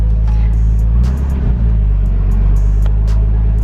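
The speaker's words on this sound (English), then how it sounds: "I love these exhausts. They sound so good." A turbocharged Daihatsu Mira L200 kei car exhaust rumbles loudly and continuously at close range, a deep throaty drone with slight rises as the engine is revved.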